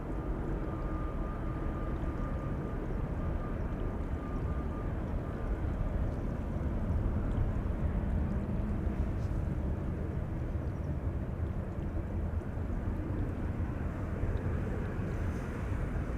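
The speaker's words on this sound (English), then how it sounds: "This has been Delta Airlines Flight 135 to Detroit, Michigan." Delta Airlines flight 135 bound for Detroit at Schiphol Airport, a fairly faint, steady low engine rumble mixed with wind, unchanging and distant, with no voices.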